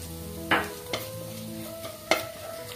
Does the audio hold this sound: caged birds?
no